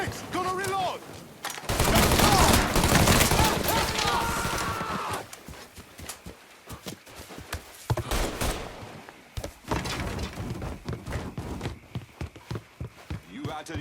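Rapid gunfire bursts in the video game Mafia 3, loud and close with heavy volleys, then scattered single shots, thuds and footsteps, while voices shout over the shooting.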